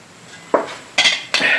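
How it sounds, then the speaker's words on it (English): A replica 18th-century metal cooking kettle clanks as it is handled, giving three separate sharp metallic knocks with short ringing tails, close and fairly loud against a quiet background. "This is my replica of an 18th century cooking kettle."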